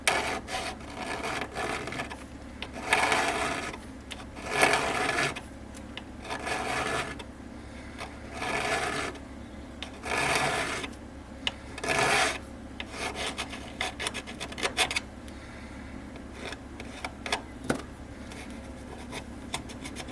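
A hand file rasps on a model ship part in repeated back-and-forth strokes, steady and close, with brief pauses between bursts of scraping; no talking.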